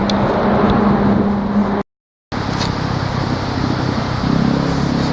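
Steady traffic rumble from a major road, Route 307 near Takaoyama in Japan, a loud continuous wash of passing vehicles with a brief dropout partway through.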